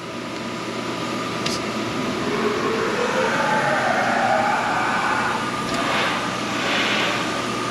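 A CNC machine spindle travels back to its home position with a steady mechanical whir and a faint rising and falling motor tone, accompanied by continuous machine hum throughout.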